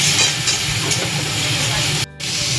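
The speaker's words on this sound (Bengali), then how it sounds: "পেঁয়াজটা ভালোই ভাজা ভাজা হয়ে গেছে।" Onion paste mixed with chilli paste fries in hot oil, making a loud, continuous close hiss that cuts out abruptly for a moment near the end and then resumes.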